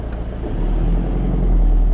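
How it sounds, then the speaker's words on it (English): Steady traffic rumble on a rural road, cars passing close and continuous, loudening toward the end with no talk over it. "crikey, there's a lot of traffic."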